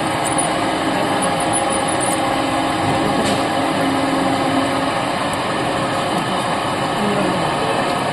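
A lathe running steadily while centre drilling, giving a continuous mechanical hum and whine that stays even and fairly loud for the whole stretch, with no voices over it.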